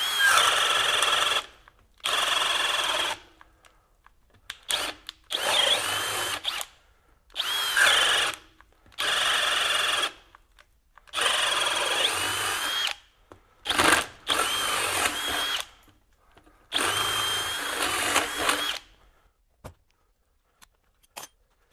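A Hercules HCB92B 20V cordless hammer drill boring with a 1 to 1 1/4 inch spade bit whirs in repeated bursts of a few seconds each, separated by short silences, loud and close, with faint clinks between runs.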